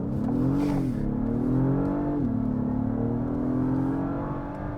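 An Acura MDX Type S SUV accelerates in Sport Plus mode, its engine droning close and loud, rising in pitch, dropping at a gear shift, then climbing again.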